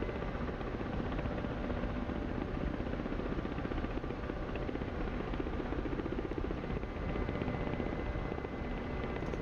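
A Ka-50 helicopter in the DCS flight simulator drones continuously with a steady rotor buzz and engine roar, loud and unchanging throughout with no talk.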